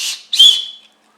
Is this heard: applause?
no